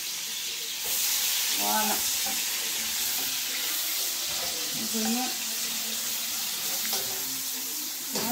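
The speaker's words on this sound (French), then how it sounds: "vais faire revenir les oignons" Onions frying in oil in a pan, a steady broadband sizzle running the whole time, with a brief spoken word and some light clinks over it.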